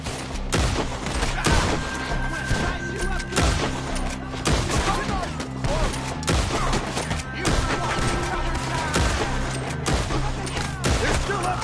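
Rapid bursts of gunfire ring out nonstop in a video game battle against enemies perched up in trees, dense overlapping shots with a few louder cracks over a steady din.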